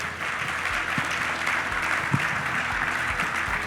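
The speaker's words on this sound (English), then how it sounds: "let's all give him a warm round of applause" Warm audience applause at a health policy conference keynote, a broad, continuous roar of clapping from a large crowd, with a few low thumps and faint murmurs beneath it, sustained evenly throughout.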